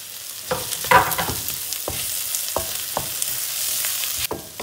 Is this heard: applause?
no